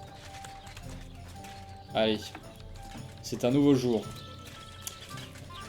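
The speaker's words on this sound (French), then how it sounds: "nous avons notre petit cheval." A horse clip-clops in Kingdom Come: Deliverance II, its hoof steps steady under someone speaking French, with game music tones in the background.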